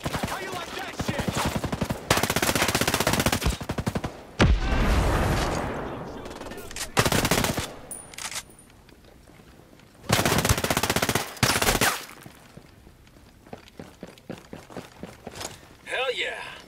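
Bursts of automatic gunfire in the Ghost Recon Breakpoint video game during a squad firefight, loud rapid volleys separated by quieter gaps, with scattered shots and movement sounds between them.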